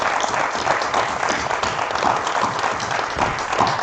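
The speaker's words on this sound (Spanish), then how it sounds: "vamos a demostrarte un aplauso." An audience at a talk bursts into sustained applause, a dense, even wash of many hands clapping that holds at full strength for several seconds with no voices over it.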